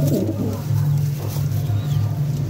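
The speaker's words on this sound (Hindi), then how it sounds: "ये लो फ्लायर कबूतर है जी।" A low flyer pigeon cooing, low soft repeated coos over a constant background hum.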